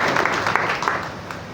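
A church congregation applauds in a broad, steady wash of clapping that fills the whole moment, fairly close and even in level with no voices standing out.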